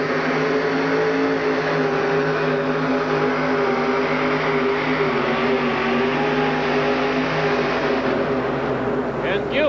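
A loud, steady engine roar from a 572 cubic inch Chevrolet-powered two-wheel-drive truck at a 1987 USHRA motorsports event in Minneapolis fills the arena, with crowd and announcer noise blended underneath.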